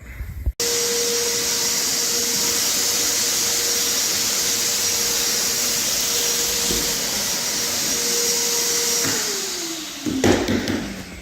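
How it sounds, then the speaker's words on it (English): A shop vacuum sucks debris out of the cracks and corners of a subfloor prepared for laminate flooring. It is a loud, steady whooshing drone that runs without a break, then winds down with a falling pitch near the end. "Just shop vacuuming everything out, all the cracks, all the corners"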